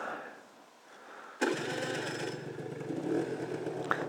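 A Piaggio Typhoon 125 scooter engine cranks and catches abruptly, then settles into a steady, close, buzzing idle with a slight rattle and a brief blip of throttle near the end.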